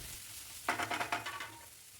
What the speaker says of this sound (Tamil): வெங்காயமும் பச்சை மிளகாவும் சேர்த்து நல்லா வதக்கி விட்டுருங்க.